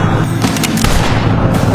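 Gunfire in a scene from the TV series The Blacklist, a loud burst of sharp blasts crowding together over a dense rumble, with no one speaking.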